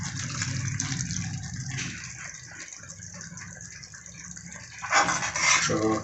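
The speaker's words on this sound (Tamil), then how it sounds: "கொஞ்சமாக இந்த கரைச்சி வச்ச புளி தண்ணி சேர்த்துக்கலாம்" Strained tamarind water poured into a pan of simmering brinjal gravy, a soft continuous gush of liquid that grows louder and splashier toward the end.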